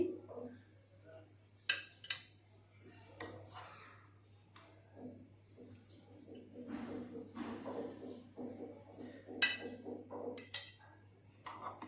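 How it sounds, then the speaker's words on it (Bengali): Zarda semai, a sweet vermicelli dish, is spooned gently into a serving dish. A few sharp clinks and scrapes of a utensil on the dish stand out close by, with quiet pauses between them. "আস্তে আস্তে করে সার্ভিং ডিশে নিয়ে নিচ্ছি।"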